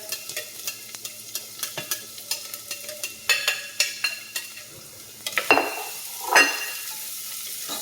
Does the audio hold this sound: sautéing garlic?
yes